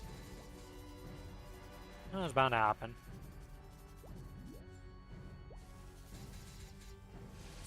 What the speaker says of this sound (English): And there goes my potion. Shatter.